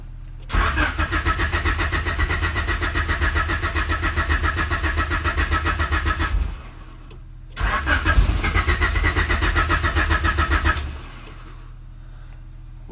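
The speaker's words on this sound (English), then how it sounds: "we're gonna try to start the car right now." A turbocharged Honda H22 engine in a CB7 Accord cranks in two long bursts of rapid, rhythmic starter churning, separated by a short pause, with a brief catch but no sustained idle, loud and close.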